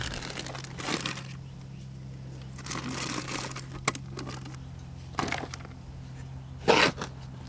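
Plastic bag crinkled while filling a vertical planter with soil on a deck: scattered soft rustles and sharper crackles in irregular bursts over a steady low hum, with a louder crinkle near the end.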